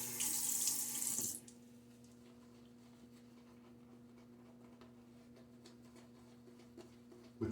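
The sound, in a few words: water running from sink tap while shaving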